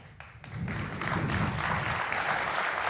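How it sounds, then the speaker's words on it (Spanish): An audience at the Casa Condal in Telde, Gran Canaria, applauds timple player Laura Martel before she plays, the applause swelling quickly from quiet into a steady, fairly loud wash that continues to the end. "Sin tocar, ya la aplauden."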